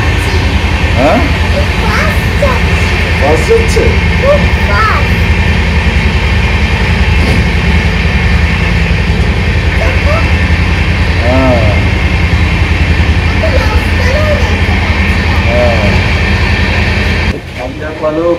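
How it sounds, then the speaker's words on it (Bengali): A Vistadome passenger train crossing a railway bridge at speed, heard from inside the coach as a steady loud rumble and hum of wheels and air conditioning, with people talking over it. "রেলের উপর দিয়ে যাচ্ছি ব্রিজের উপর"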